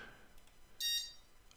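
Alarm sounder of an Infinity Commander antenna security system giving a single short, high-pitched electronic beep, faint and heard alone.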